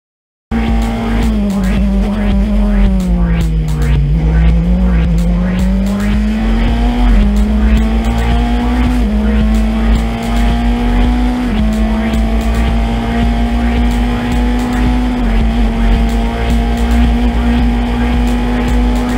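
Single-seater race cars start a race at the Navarra circuit, a loud, steady engine drone with rising and falling pitch as the pack accelerates, under continuous commentary.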